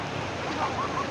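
Steady broadband wash of sea waves breaking on a beach, loud and continuous, with a brief tonal whistle partway through.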